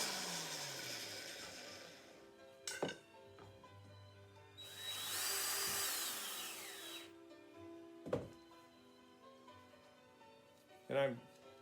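Cordless drill whirring in short bursts as it drives a screw into an antler joint for a candle holder, with a longer sustained run in the middle and someone talking between bursts.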